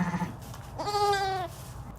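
A newborn lamb, one of a pair of twins, lets out a single drawn-out, wavering bleat lasting about half a second, fairly close and clear, with quiet background sounds before and after it.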